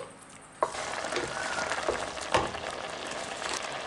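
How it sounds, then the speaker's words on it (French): A seafood pasta sauce bubbles and sizzles in a pan as it boils and reduces, a steady hiss broken by a few sharper pops and stirring clatters. "On va laisser rebouillir ça réduire quelques instants."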